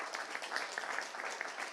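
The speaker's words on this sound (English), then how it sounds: "could we have another round of applause before we go?" An audience in a hall at a London retrofit discussion event gives the panelists a short round of applause, a brief, moderately faint patter of clapping with no voices over it.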